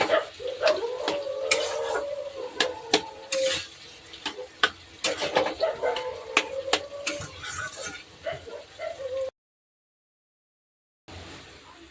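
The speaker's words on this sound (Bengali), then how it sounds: "আমি কচু শাকটাকেও দিয়ে দিচ্ছি, কচু শাকটাকে দিয়ে দিলাম" Boiled, chopped taro leaves tossed into a pan for a dish with hilsa fish heads, a run of clattering scrapes and taps of the spatula over a low sizzle, close by, then a short gap of silence.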